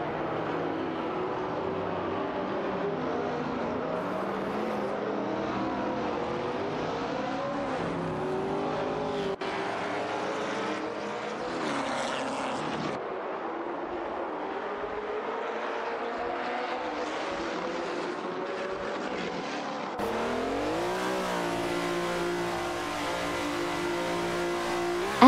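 Porsche 908 LH Coupe and Ford GT40 Mk I racing cars in a video game, engines revving and shifting through gears continuously, a steady loud drone of racing motors with rising and falling pitch and no talk.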